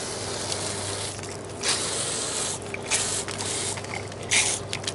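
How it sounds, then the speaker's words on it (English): Pressure washer rinsing foam off an old 1998 Trane 7.5 ton air conditioning unit, a continuous close hissing spray with a few louder splashes as the jet moves across the coils. "I'll rinse it off with the pressure washer."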